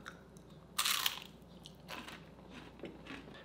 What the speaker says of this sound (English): give this a bite though so you guys kind of hear what they sound like